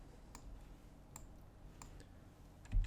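A computer mouse clicks quietly at a desk during Maya modeling work, a few sparse, sharp ticks spaced across a few seconds, ending in a short low thump.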